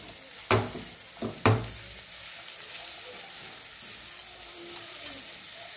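Chopped ginger, garlic, onion and green chilli fry in a pan during village-style cooking of potato pasta. Two sharp clanks of the stirring utensil come first, then a steady, moderate sizzle continues without speech.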